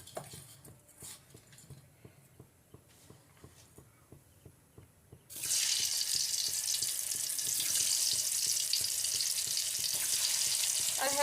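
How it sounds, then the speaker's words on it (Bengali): Potatoes hit hot oil and break into a loud, steady sizzle that fills the rest of the clip, after a quieter opening of soft rhythmic kitchen ticks and clatter. "আমি এবার আলুগুলোকে ছেড়ে দেবো একটা একটা করে, দিয়ে একটু ভেজে নেবো।"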